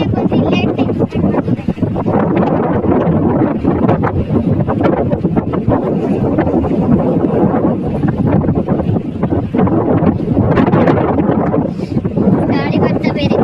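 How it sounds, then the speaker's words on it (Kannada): Wind gusting across the KRS backwaters reservoir, a loud, constant broadband roar of wind buffeting the microphone, with water and waves washing beneath it throughout. "ಗಾಳಿ ಬರ್ತಾ ಬೇರೆ."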